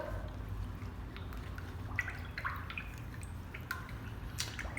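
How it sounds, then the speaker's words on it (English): An acrylic paintbrush is swished and rinsed in a water cup, giving soft drips, small splashes and squishy liquid sounds over a low steady background hum. "wash your brush out"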